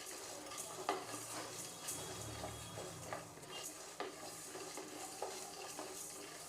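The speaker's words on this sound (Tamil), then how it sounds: "அப்புறம் வெந்தயம், அப்புறம் கடுகு, இது மூணையும் ஒன்றா வறுத்துக்கலாங்க." Black pepper, fenugreek and mustard seeds are dry-roasted together in a pan for a kulambu chilli powder: a faint, soft crackle with light scraping and a few small clinks of stirring.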